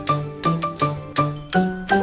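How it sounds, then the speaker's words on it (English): A bell in a children's nursery song rings a series of bright, ringing dings at a steady beat. About six strikes each fade out briefly before the next, with no voices. "the bell goes ding"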